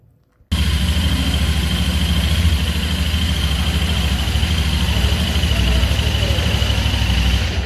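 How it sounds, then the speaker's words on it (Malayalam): A Royal Enfield Interceptor 650 motorcycle idles through its exhaust after a brief quiet moment, a steady, smooth, close engine rumble that holds evenly to the end. "എക്സോസിൻ്റെ സൗണ്ട് എന്ന് പറയുന്നത് നല്ല കിടിലം സ്മൂത്തായിട്ടുള്ള സൗണ്ടാണ്."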